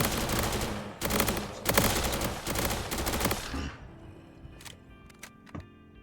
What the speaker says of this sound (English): Now I get machine guns.